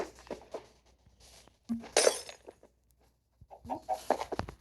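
Chickens clucking on a small farm with rabbits and other animals, scattered short clucks and squawks in bursts, one louder cackle midway, fairly close with quiet gaps between.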